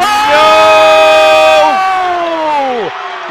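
Loud crowd roaring and cheering at a basketball game in a gym during a semi-final comeback, the sustained noise peaking then easing slightly, with a shout rising above it.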